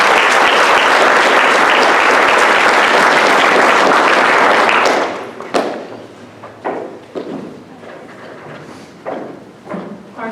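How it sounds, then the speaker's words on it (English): Loud, dense applause from an audience at a 4-H county achievement night fills the first half, then breaks off into a few scattered claps, thumps and light movement noises. "So you guys give them a round of applause."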